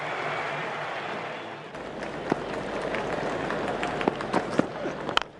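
A large cricket crowd at Sydney roars and applauds during a Pakistan vs West Indies one-day international final in 1997, with a broad continuous crowd noise and scattered sharp claps or bangs rising toward the end.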